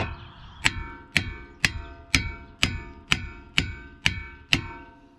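Metal hammer blows strike a bolt while pads are changed on a 2011 Audi Q7 in a garage: nine sharp, evenly spaced strikes about half a second apart, each ringing briefly, loud and close with no talk.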